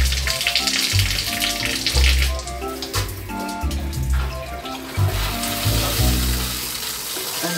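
A cold shower runs steadily in a Japanese-style capsule pod hotel in Quezon City, its continuous close rush of water mixed with a tonal, music-like background throughout.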